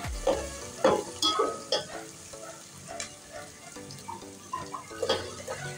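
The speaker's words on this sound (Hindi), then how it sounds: "हरी मिर्चों का पेस्ट ऐड कर लें।" Green chili paste fries in a pan for vegetable pulao, with a steady close sizzle broken by repeated scraping and stirring strokes throughout.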